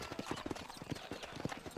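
Horse hooves clip-clop in a steady walking rhythm within the Red Dead game world, close and fairly soft, with a faint hint of voice nearby.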